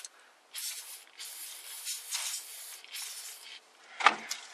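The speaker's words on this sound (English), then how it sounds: "I'm also going to give it a little shot of the penetrating oil." Aerosol can of penetrating oil sprayed onto a brake line fitting at a wheel cylinder, several short close hissing bursts followed by a sharp click.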